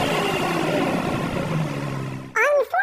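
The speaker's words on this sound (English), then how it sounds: "Take a listen to a few short revs from the RS6 GT." An Audi RS6 GT's engine is blipped in a few short revs, heard close as a rising then falling mechanical roar that fades out before a brief vocal sound at the end.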